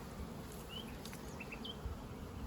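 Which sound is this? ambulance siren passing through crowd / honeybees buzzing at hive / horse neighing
honeybees buzzing at hive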